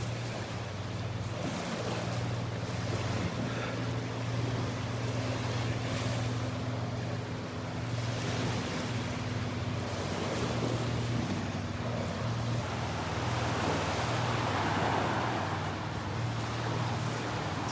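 Surf rolls onto Vanderbilt Beach in North Naples, Florida, a steady wash of waves with a low continuous rumble and some wind, with no voices.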